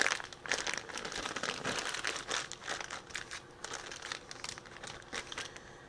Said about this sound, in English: Put it in your plastic bag. Don't want it to harden on you. Squeeze out the air.